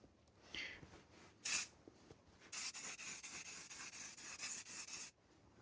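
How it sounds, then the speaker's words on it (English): Lacquer is sprayed onto a burr walnut veneer dashboard from a Triumph Spitfire Mk3, a close, loud hissing spray in a short burst, then a longer run of pulsing sprays lasting several seconds before it stops. "I think I sprayed that a little bit close that time"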